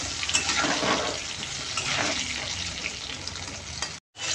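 Potatoes frying in hot oil in a home kitchen, a steady close sizzle and bubbling for about four seconds before cutting off abruptly.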